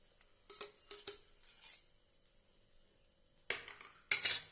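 A cooked green gram and ragi dosa being lifted from the pan and set on a plate, with several light metallic scrapes and clinks of a spatula, then a couple of louder clatters near the end.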